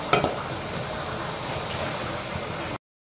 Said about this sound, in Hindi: अब मज़ीद इसको थोड़ा सा भूनना है